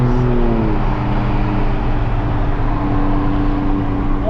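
An Alfa Romeo Quadrifoglio with a Ferrari V6 engine pulling hard: a loud, close, continuous low engine drone with a throaty rumble, holding steady and starting to climb in pitch near the end.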